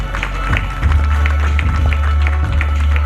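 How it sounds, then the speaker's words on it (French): Loud clapping and cheering from spectators at a freestyle football show, a steady burst of applause over a deep low hum, with scattered sharp claps standing out. "Bon, on peut les applaudir bien fort encore une fois."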